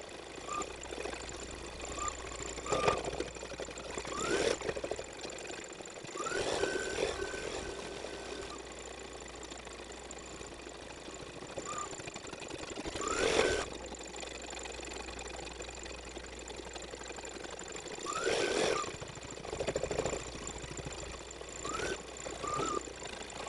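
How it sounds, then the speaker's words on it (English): Home embroidery machine stitching the final letter E of a Halloween trick-or-treat tote design, a steady mechanical hum with rhythmic needle clatter and periodic louder knocking bursts, close and continuous with no talking. "it is like a 35, 36-minute stitch out on my machine"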